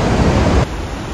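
Victoria Falls between Zimbabwe and Zambia roars as a dense, steady wash of broadband noise, loud and close, dropping slightly in level partway through.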